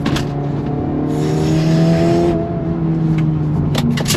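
Loud, close engine note from a 2025 Acura Integra Type S revving and pulling hard, a sustained droning tone that swells and shifts pitch, with a hissing burst in the middle and brief clicks.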